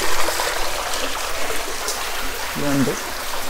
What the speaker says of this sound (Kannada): ಇಲ್ಲೊಂದು ನಂದಿ ಇದೆ, ನಂದಿ ಬಾಯಲ್ಲಿ ನೀರು ಬರ್ತಿದೆ.